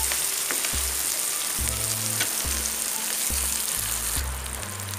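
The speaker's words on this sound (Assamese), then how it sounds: "দুই মিনিটমান সময় পিঁয়াজখিনি এনেকৈ অকণমান ভাজি লওঁ।" Chopped onions fry in oil in a pan for mutton curry, a steady close sizzle running throughout without talk.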